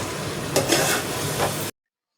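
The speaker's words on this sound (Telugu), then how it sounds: "రొయ్యలు వేసుకొని కలిపేసుకోవాలి." Prawns being stirred into gongura curry in a pan during village home cooking, with soft sizzling under a few scraping strokes of a spoon against the pan, close and alone, cutting off abruptly.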